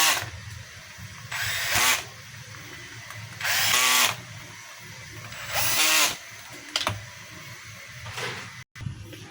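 A Black and Decker cordless hammer drill whirs in three short, loud bursts as it drives a screw, with quiet pauses and light handling clatter between runs.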